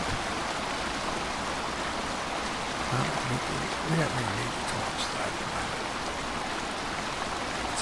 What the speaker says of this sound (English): the minute I move away from this waterfall